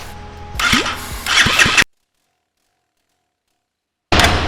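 A Road Prince Wego motorcycle engine being started for the first time, cranking and catching into a loud, rough running note, then cutting to silence for about two seconds before the engine noise returns abruptly.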